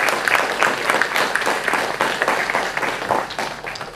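Audience applause for a film's cast and crew at a festival conversation, close, dense clapping from a crowd that swells and then gradually thins toward the end.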